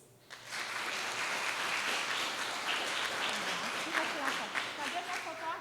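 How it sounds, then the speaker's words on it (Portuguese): Applause breaks out for Laís at a church Sunday Bible school service, steady clapping from a group that runs continuously at moderate volume, with a voice speaking faintly underneath. "Palmas para a Laís."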